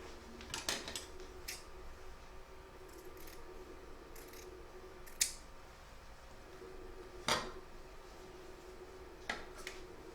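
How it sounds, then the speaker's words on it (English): Scissors trim thread tails on a reversible quilt in a quiet room, making a few sparse, crisp snips spaced seconds apart, with no voices. "we can now trim these tails up"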